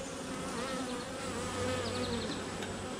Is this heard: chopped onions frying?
no